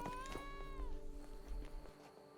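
A cat meows in The Witcher 3, a drawn-out harmonic cry followed by a shorter call, heard over steady game ambience with no talk.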